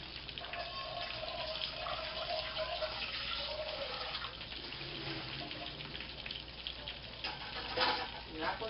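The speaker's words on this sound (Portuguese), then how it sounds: "Vou escorrer os legumes agora." Cooked vegetables being drained, a steady rushing pour of water running through a strainer, continuous and close, with a slight surge near the end.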